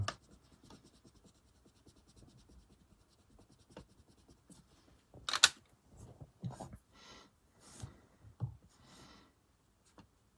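Derwent Inktense pencil drawing on Carnet Goldline 250 g paper, soft intermittent scratchy strokes, close and quiet, with one sharper louder scrape midway and bursts of scribbling afterward.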